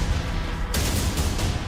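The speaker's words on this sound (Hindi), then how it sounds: "तभी उसके सामने बड़ा धमाका होता है।" A large blast in wartime Kyiv near an evacuation of residents: a sudden loud broadband burst breaking over steady low rumble, followed by a few further crackling impacts and echoes.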